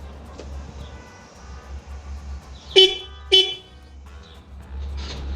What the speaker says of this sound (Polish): Ta trąbi.